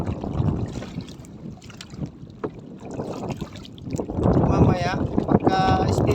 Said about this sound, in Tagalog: Kaya sagwan lang ako ng sagwan.